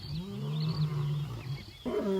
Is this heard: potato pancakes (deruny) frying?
no